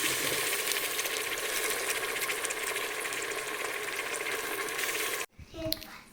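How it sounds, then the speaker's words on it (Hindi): Tomatoes go into a hot frying pan while biryani cooks, setting off a steady, crackling sizzle that fills about five seconds before cutting out abruptly into quieter kitchen noises. "टमाटर डाल रही हूँ।"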